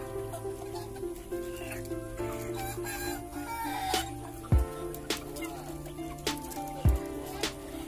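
Two-month-old Arab laying hens cluck and fuss close by in a barnyard, a steady busy chatter with a couple of sharp knocks near the end.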